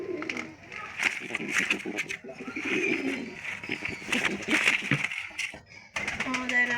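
Pigeons coo in a home pigeon loft, soft low calls repeating through the clip beneath a person talking close by.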